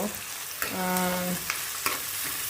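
Onion sautés in a pan for upma, giving a steady close sizzle with a few sharp stirring clicks and one brief squeaky scrape.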